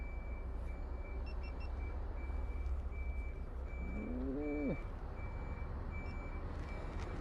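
A steady vehicle reversing beep repeats through constant outdoor traffic rumble, with a brief rising engine or brake sound partway through.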